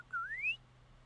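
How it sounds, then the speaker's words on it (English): A girl in a video game with Xianyun gives a single short rising whistle, clear and close, over a quiet background hum. "Oh wow, she can whistle."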